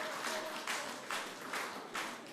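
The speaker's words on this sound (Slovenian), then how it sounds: "Aplavz za Nušo, če bo morda pa tokrat uspeh." A studio audience at a Slovenian game show gives a contestant a modest round of applause, quiet clapping rising and falling in a few soft, uneven pulses.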